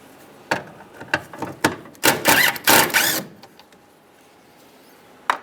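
Bolts being loosened and removed from the coolant tank of a 2007-2015 Mazda CX-9 with a ratchet, giving a string of sharp mechanical clicks and louder ratcheting bursts up close, ending with a single clack.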